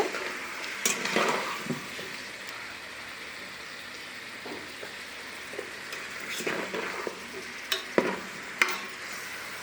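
Chicken pieces in oil get stirred in a rice cooker, with scraping strokes and soft sizzling in bursts, a few sharp clinks of a utensil against the pot standing out near the end.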